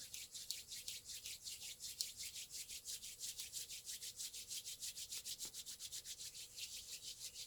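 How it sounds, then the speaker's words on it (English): Palms rubbing briskly together in a steady back-and-forth rhythm, about four strokes a second, a soft close-up swishing friction that carries on evenly with no talking. "that involves the rubbing of the hands together"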